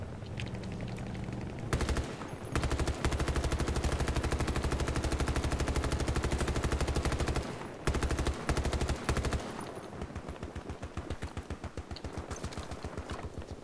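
Gunfire in the video game Battlefield 2042 on a Bad Company 2 Arica Harbor map, with sustained loud automatic bursts and rapid repeated shots that stop briefly and resume, ending in a quicker staccato run.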